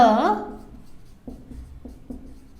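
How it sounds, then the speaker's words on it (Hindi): A teacher writes on a board during an English grammar lesson, leaving a few soft, evenly spaced taps after a brief voice at the start. "मैं यहाँ पर नीचे लिख देती हूँ"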